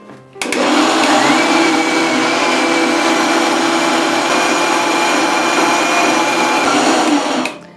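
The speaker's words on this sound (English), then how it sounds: "So now, let's blend." A kitchen blender grinds idli batter in one steady, loud, continuous whirring run that starts abruptly, holds for about seven seconds and then cuts off.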